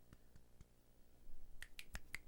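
Sharp finger snaps during a relationship podcast, a few sparse clicks at first, then a quick cluster of five or six crisp snaps close to the mic in a quiet room.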